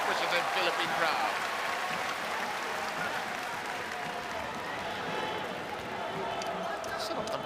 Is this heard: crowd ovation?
yes